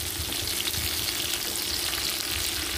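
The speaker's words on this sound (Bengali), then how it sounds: "এবার আমি পটলটাও ভেজে নেব" Potato chunks and pointed gourd sizzle together in hot oil, a continuous close frying hiss with faint crackles and no talking throughout.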